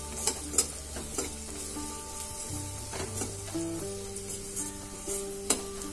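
A vegetable fries with homemade masala in a pan, giving a steady close sizzle under occasional scraping stirs and light metallic taps, with no voices.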